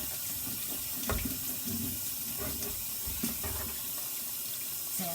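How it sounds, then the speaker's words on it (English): Tap water runs steadily into a kitchen sink while bottles are washed with a bottle brush by someone in small black rubber gloves; continuous close splashing and gurgling with occasional clunks of glass, no talking. "Now we're washing the bottles."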